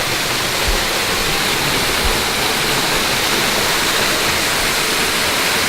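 A waterfall in Shawnee National Forest at Dutchman Lake roars steadily up close, a loud, unbroken rush of falling water with no voices over it.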